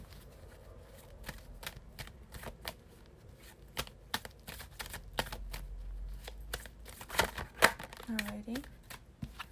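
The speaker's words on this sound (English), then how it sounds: "You can hear me shuffling with the Morgan Greer Tarot." A Morgan Greer tarot deck is shuffled by hand, producing a quick series of crisp card slaps and riffles in an irregular rhythm, close and clear, while a person speaks briefly.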